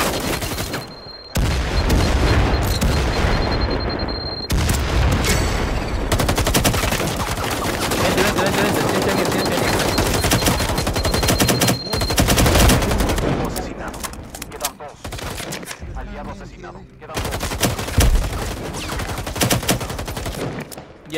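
Gunfire in the VR shooter Firewall Zero Hour, with loud close bursts of automatic weapon fire and single shots in rapid clusters, brief pauses between volleys, and players talking at times.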